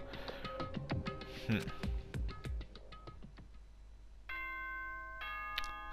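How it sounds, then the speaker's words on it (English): Nighttime announcement chime from the Danganronpa video game, a bright electronic ding-dong tone with steady sustained notes entering late, after a stretch of busier game music and sound effects. "Ding dong, bing bong. It's nighttime, everybody!"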